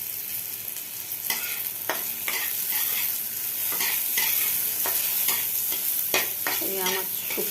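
Bitter gourd for shukto fries in oil in a pan and is stirred: a close, steady sizzle broken by repeated scraping strokes of the spoon, with no talking.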